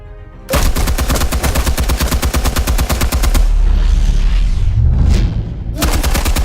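AK rifle firing in a Batman Telltale Series game scene: a loud, rapid burst of automatic shots for about three seconds, followed by a heavy booming rumble and another burst starting at the end.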